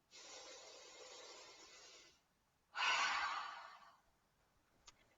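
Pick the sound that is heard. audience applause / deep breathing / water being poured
deep breathing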